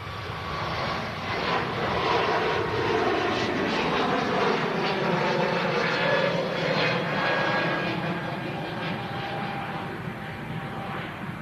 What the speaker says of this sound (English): Ooh, Turkish Airlines with the mask design.